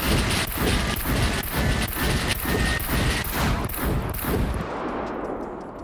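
Automatic gunfire in the video game SCUM pours into a heavy sentry, a loud, rapid and steady stream of shots that keeps on without pause before thinning into a fading tail at the end.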